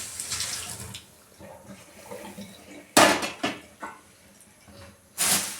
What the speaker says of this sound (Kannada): ಈಗ ಈಚೆ ಹಾಕ್ತಾ ಇದ್ದೀನಿ ನೀರನ್ನ